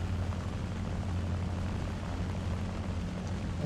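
A propeller aircraft engine runs at full throttle in War Thunder, a British late-war prop plane, giving a steady, loud, unbroken drone with no pauses.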